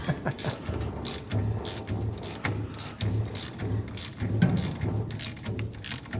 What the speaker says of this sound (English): So even having this spring compressor, I'm still kind of nervous this close.